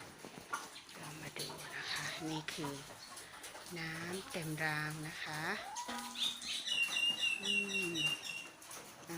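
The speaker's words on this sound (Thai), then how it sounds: "อีกตัวหนึ่งเป็นไก่ตาบอด" Egg-laying hens, one of them blind, cluck at feeding time, repeated short clucks and calls close by while someone talks over them.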